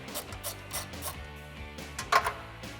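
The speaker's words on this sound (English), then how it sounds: "we're gonna remove our top 10 millimeter." A ratchet works loose the top 10 mm bolt holding a 2005-2009 Mustang headlight, giving a few quiet, close clicking bursts of the pawl in short irregular strokes, with no voices.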